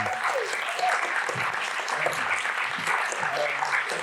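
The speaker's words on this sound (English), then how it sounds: "Can we get a big round of applause for Amani?" Audience applause closing a masterclass, a steady, full wash of many people clapping with scattered voices and cheers mixed in throughout.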